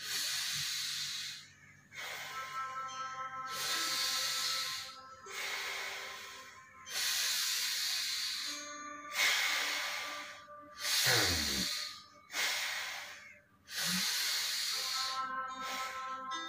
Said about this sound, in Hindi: लेफ्ट थंब से लेफ्ट नोस्ट्रिल को क्लोज करेंगे और राइट साइड से सांस लेंगे, राइट से छोड़ेंगे 5 बार